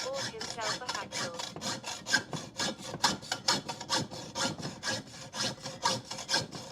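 A hacksaw cuts during a van build water tank install, rapid rhythmic rasping back-and-forth strokes, close and steady for several seconds with no talk.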